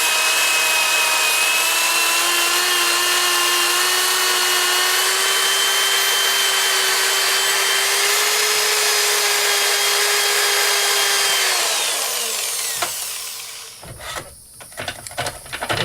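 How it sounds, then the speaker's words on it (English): A power sander with a sanding disc whines loudly and steadily on a wooden bowl of pepper tree wood, grinding and rubbing, then winds down and stops, followed by a few light clattering handling sounds. "take your sanding disc and especially power sanding it"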